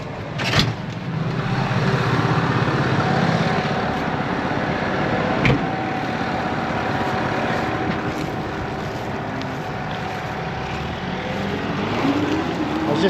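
A vehicle towing a trailer rolls slowly past in a steady, continuous low rumble, fairly close and even in level throughout, with a faint tonal hum running underneath.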